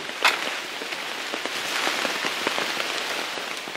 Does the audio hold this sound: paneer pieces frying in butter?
no